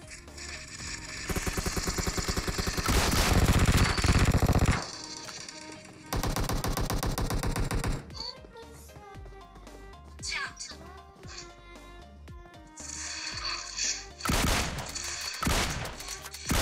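Rapid automatic gunfire from the PUBG video game comes in loud bursts with pauses, alongside game effects and people talking over it.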